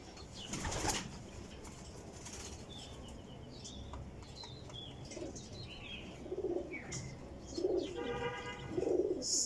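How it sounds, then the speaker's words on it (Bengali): Pigeons of a named breed line coo in short soft bursts with occasional wing flaps and chirps, close by and fairly quiet against steady background noise. "এটা হচ্ছে একটা টুটুল ভাইগো কবুতর, ইমরু টুটুল ভাইগো কবুতর নটটা।"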